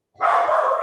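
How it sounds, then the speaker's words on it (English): A single sustained, fairly loud bark or yelp from a dog indoors, close by, with no talk around it. "the dog likes to bark at everything"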